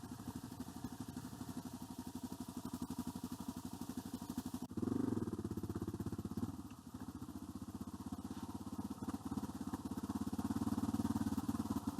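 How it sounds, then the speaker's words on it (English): A Yamaha T7 adventure motorcycle idles with a steady, pulsing low thrum on a rough track, continuous for the whole stretch, with a brief louder blip midway. "Following Pete on the big T7 now"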